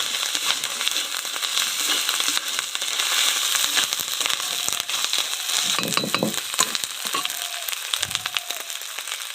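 Garlic paste hitting hot oil in a pan, a dense, steady, loud sizzle and crackle that keeps going throughout, with a few light clinks of a utensil and no voices.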